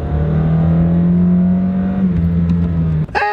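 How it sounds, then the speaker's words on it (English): An automatic Toyota Camry with a four-cylinder engine pulls hard under acceleration, a steady loud drone heard from inside the car that holds its pitch, then shifts slightly before a brief bump at the end. "even though it's only got a four-cylinder engine and an automatic transmission, look at this. It still takes off like a rocket ship."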